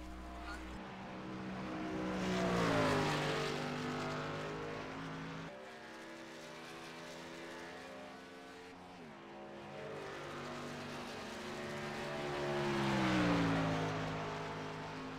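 Camping World Truck Series trucks race in practice at Atlanta Motor Speedway, with engine roars rising and falling as they pass and revving in long pitch sweeps, heard from close by.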